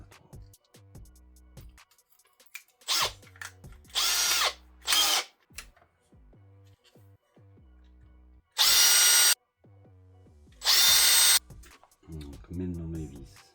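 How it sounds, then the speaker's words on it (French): A power drill boring holes through small shims during an RC car brushless conversion, heard as several short high-pitched whirring bursts, each a second or two long, separated by quieter handling clatter and brief talk. "mes petites cales, il faudrait peut-être que je les perce pour que ça soit libre"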